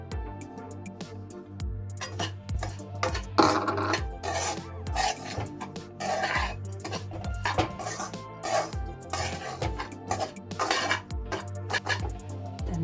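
Semolina roasting in ghee is stirred around a pan, a steady scraping and rasping of spoon on metal in close, rhythmic strokes, with no one talking.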